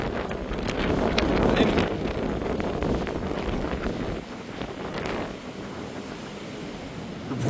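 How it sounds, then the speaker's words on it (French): Strong gusting wind during storm Floriane roars against the microphone outdoors, a loud, continuous rushing buffet that surges and eases slightly, with a faint voice in the mix. "Le bruit du vent."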